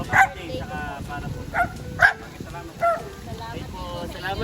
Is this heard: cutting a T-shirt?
no